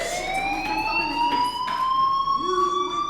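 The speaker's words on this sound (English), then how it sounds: "Hey, do you hear that fire alarm?" A fire alarm in the video game Life is Strange wails in rising, overlapping tones that keep going without a break, steady and fairly loud throughout.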